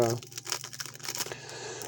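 Scissors snip open a plastic ramen packet, giving a brief burst of crinkling and tearing plastic up close, with soft rustles continuing as the wrapper is handled.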